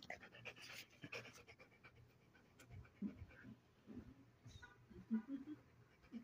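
A dog pants rapidly and steadily up close, quick rhythmic breaths continuing throughout with small rustles and a few faint vocal sounds mixed in.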